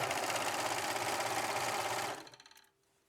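A sewing machine stitches a swimsuit seam in a fast, even whir for about two seconds, then slows with a few last thumping stitches and stops.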